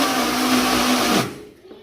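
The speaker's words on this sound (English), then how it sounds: "Put it in the blender, and then blend the fuck out of it" An electric blender whirs loudly at full speed, blending smoothie ingredients for a breakfast drink, a steady roaring grind that cuts off abruptly and leaves quiet room sound.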